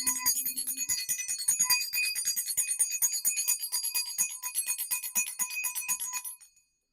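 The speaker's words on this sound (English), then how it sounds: "I'm going to use my mom's bell because I need to do some tweaking" A small hand bell rings steadily for about six seconds, bright repeated jingling strikes close by, fading out at the end with no voices.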